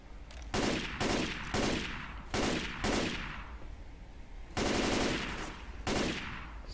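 Bursts of automatic gunfire from Left 4 Dead 2 come as a string of loud, rapid volleys, each about half a second long, separated by short pauses.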